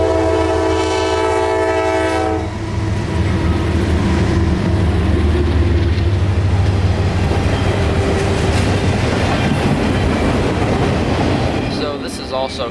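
A CSX freight train on the Fitzgerald subdivision near Waycross, Georgia rolls loudly and steadily past a green signal, opening with a long sustained horn blast before the rumble and rail noise of passing cars take over.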